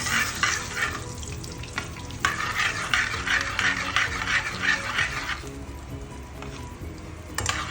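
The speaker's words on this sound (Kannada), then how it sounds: "ಒಗ್ಗರಣೆ ಆಗ್ತಾ ಇದೆ" Mustard seeds and spices for soppu sambar tempering in hot oil, a steady, close sizzle and crackle with bursts of stirring that ease off slightly toward the end.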